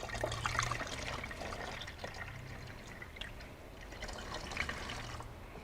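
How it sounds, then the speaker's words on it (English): Pure still water pours and trickles steadily into petrol, with splashing and gurgling throughout, fairly close and continuous. "We pour roughly the right amount of pure still water into petrol on the left side"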